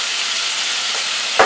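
Venison steak seasoned with fresh ground black pepper fries in a hot pan, giving a steady, close sizzle with no talk; a sharper crackle flares up at the very end.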